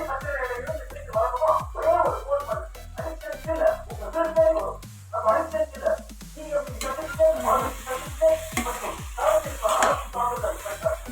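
Peas being stirred into vegetable rice frying in a pan, with repeated scraping stir strokes over a steady sizzle, close and fairly loud, and a short lull partway through.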